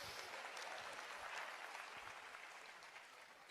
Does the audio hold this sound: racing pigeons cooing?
no